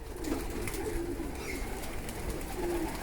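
Homing pigeons coo softly in a pigeon loft, low repeated coos that come and go over a quiet background with no talking.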